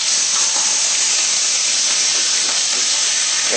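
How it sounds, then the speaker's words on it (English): Shrimp sear in hot oil in a wok for Chinese shrimp with vegetables, giving a loud, steady, close hiss and sizzle throughout. "As you can hear, the sizzling is very welcome, especially this kind of cooking."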